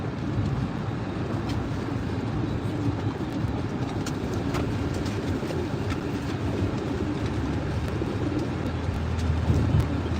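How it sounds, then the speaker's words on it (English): Racing pigeons coo softly from the back of a moving car, their faint calls sitting under a steady road rumble and engine hum throughout. "Got the birds in the back of the car going training now."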